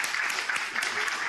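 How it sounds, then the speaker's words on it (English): Audience applause at the close of a medical grand rounds lecture, a dense steady wash of many hands clapping for the full stretch, fairly near and even in level. "I'd love for everyone to give a round of applause for Dr. Ginsburg and to Dr. Dodek."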